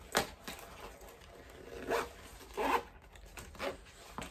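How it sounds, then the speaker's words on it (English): A zipper is run along a sewn fabric panel in several short, rasping bursts spaced through the stretch, close and fairly loud against a quiet background. "So you just run your fingers along the inside of the zipper there."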